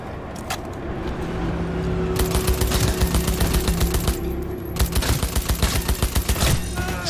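Gunfire in the video game Cyberpunk 2077, dense rapid automatic bursts that grow to a sustained rattle, pause briefly, then resume in steady rhythmic volleys over a low engine-like rumble.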